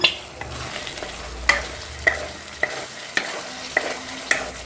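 Chicken liver fry being stirred in a pan gives a close sizzle broken by sharp, regular scrapes of a spoon against the metal, about one every half second, and no voices.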